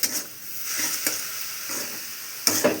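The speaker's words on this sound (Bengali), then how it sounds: "জল দিয়ে এটাকে নাড়ব" Semolina with vegetables and water stirred in a pan, soft sizzling under a few distinct scraping strokes of the spoon, close and quiet without speech.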